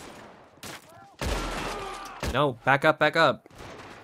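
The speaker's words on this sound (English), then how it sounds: "we are dealing with a huge gang shootout right here" A huge gang shootout in Red Dead Redemption 2: a loud blast followed by a quick cluster of sharp gunshots, heard close beside a man's brief speech.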